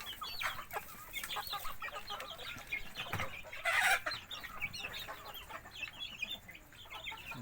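Native chickens cluck in a rural yard, with soft, scattered clucks and calls repeating throughout at a modest distance, plus a brief louder rustle midway and no talking.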